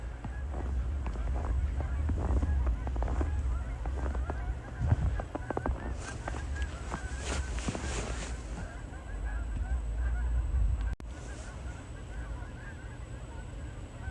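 Geese honking outdoors in falling snow at a red barn, calls scattered and fairly close over steady wind and ambient rumble, with some talking now and then.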